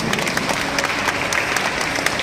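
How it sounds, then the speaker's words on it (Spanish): An audience applauds an engineer at an international pitahaya growers' symposium, with steady, dense clapping that holds at an even level for the whole stretch. "Un aplauso para el ingeniero."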